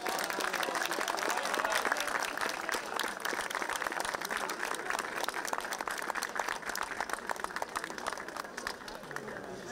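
Dense, sustained applause fills the hall from an audience at a Christmas Eve (Badnik) gathering at the cathedral church in Skopje, with many hands clapping steadily throughout and a faint crowd murmur beneath.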